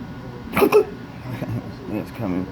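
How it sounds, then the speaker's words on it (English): Two sharp hiccups from a person in the middle of choking spasms, close to the mic and loud, followed by softer breathy sounds. "Maybe stop the hiccups."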